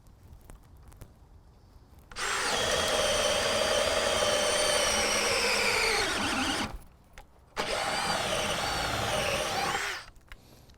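Dewalt Atomic DCD708B brushless 20V drill boring deep into wood, a loud whining bite lasting several seconds, pitch sagging as it bogs down, then a short pause and a second run of similar length.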